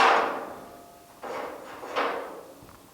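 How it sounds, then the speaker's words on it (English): A hammer strikes a socket while the droopy bed of a 1950 Chevy truck is being straightened. Three fairly sharp metallic knocks land about a second apart, each followed by a short ringing decay. "So I'm just going to hit on the socket, but I'm going to pull up on the extension at the same time."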